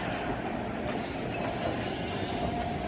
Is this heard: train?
yes